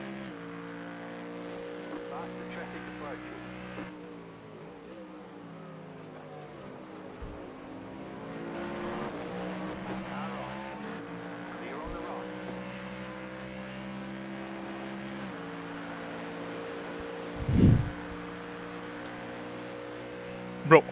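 A McLaren race car in a sim racing endurance game at Watkins Glen, its engine droning steadily with shifting harmonic tones as the revs rise and fall. Someone talks over it, and a brief louder burst comes near the end.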